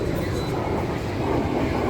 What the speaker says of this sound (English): there's fighter jets and military jets flying over, practicing.